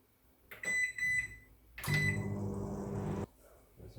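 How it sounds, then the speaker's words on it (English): A microwave oven heating water for a few seconds: a couple of quick button beeps, then a door thump and a steady low hum that runs briefly before cutting off. "Like 5 seconds in the microwave for the water."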